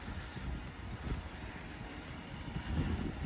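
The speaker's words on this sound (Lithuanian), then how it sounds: "Vėjas didelis, pučia." Strong wind blows outside a Dodge Durango 5.7 HEMI SUV, a steady low rumbling buffet with gusts that swell louder near the end, and no voices.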